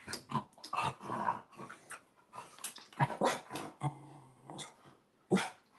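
A dog barks and growls in short, loud bursts at close range, with some whimpering between the barks and no talking.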